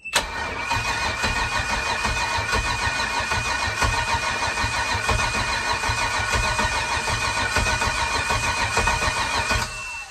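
An LS-swapped V8 in a Maxum boat cranks and fires right away, then settles into a steady, loud, rough idle for several seconds before cutting off near the end, with no talking.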